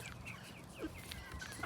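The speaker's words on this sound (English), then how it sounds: "These are all the meat birds." Meat chickens on a farm cluck softly and steadily at close range, a dense flock chattering with scattered louder calls and no voices over them.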